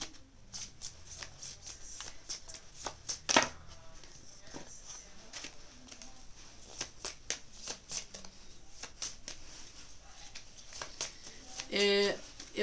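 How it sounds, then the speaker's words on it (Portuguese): Tarot cards are shuffled by hand in quick papery riffles and soft slaps, close and fairly quiet, with brief louder bursts and a person speaking at times over the shuffling. "Deixa eu embaralhar aqui."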